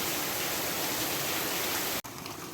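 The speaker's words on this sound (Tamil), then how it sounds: "நைட்லேருந்து சரி மழை பெய்கிற மழையில் பார்த்தீங்கன்னா எங்கள் தெருவில் வந்து ஃபுல்லாக தண்ணி நிற்கிது" Rainwater rushes steadily through a flooded street after a night of rain, a loud, close, continuous watery hiss that cuts off abruptly near the end.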